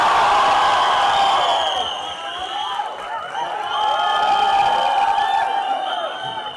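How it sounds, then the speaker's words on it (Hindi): Crowd at a film promotion event cheering and applauding as an actor takes the stage, with loud whoops and shouts over clapping, and tonal music or voices threading through the noise. "With a huge round of applause, please welcome the one and only Nawazuddin Siddiqui"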